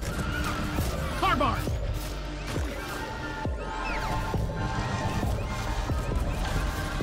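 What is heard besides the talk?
horse neighing in a video game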